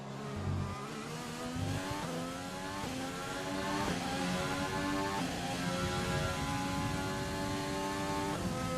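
A Formula 1 car in the F1 2020 video game screams along the track, its high-pitched engine rising through the gears with rapid upshifts and brief lifts into a corner, steady and close.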